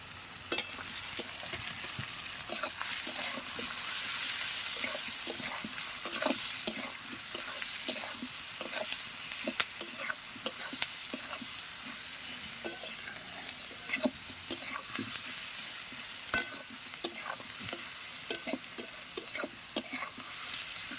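Goat meat with onion and potato, seasoned with salt and turmeric, sizzles steadily in a hot pan. Repeated scraping stirs break through the constant frying hiss, with no talking.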